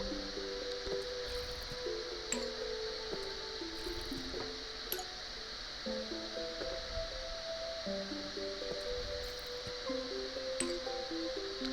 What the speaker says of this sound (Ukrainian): Можна їх полити, вони, власне, води хочуть.